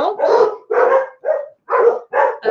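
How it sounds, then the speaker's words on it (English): Dogs bark in a rapid series of loud, close yips and woofs, six bursts separated by brief silences, with no talking. "Excuse the dogs."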